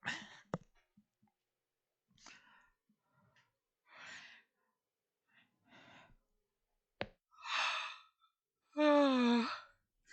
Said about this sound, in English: Yawn and jaw popped and all sorts of fantastic stuff.